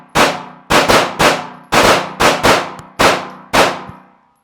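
Handgun shots fired at a live-fire range during recoil control practice, eight sharp loud reports in quick uneven succession, each ringing out and decaying briefly before the next.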